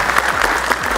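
Studio audience clapping on a Persian-language Family Feud style game show holiday special, loud continuous applause with sharper bursts of claps throughout.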